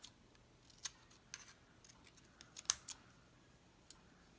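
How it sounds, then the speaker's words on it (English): Scissors snipping away excess material in a quiet room: a handful of faint, sharp clicks spaced irregularly, with one crisper cut standing out near the middle, no talk. "and then you just trim. Trim, trim, trim."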